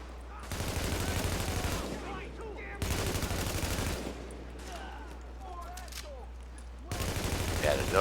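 Bursts of automatic gunfire from the video game The Division, three heavy volleys of rapid shots separated by quieter gaps with scattered distant pops, loud and close.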